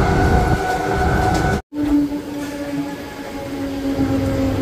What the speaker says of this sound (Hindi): देखिए गाइस ट्रेन आ चुकी है।